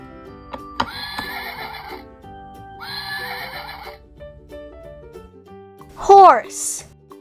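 A horse whinnies loudly near the end, preceded by bright musical phrases and a tune playing throughout at moderate volume.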